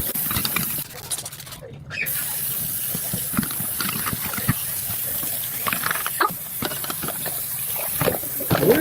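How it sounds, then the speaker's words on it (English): Water running from a tap while dishes are rinsed, a continuous gushing splash with clinks and shifts in the flow, under occasional talk. "Why is she rinsing the dishes off while running the water?"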